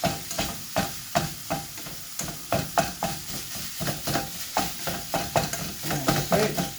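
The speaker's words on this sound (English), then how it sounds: "Give it a stir." Pasta bolognaise sauce sizzling in a pan is stirred with a utensil: a steady close frying hiss broken by regular scraping strokes about every half second, loud and without talk.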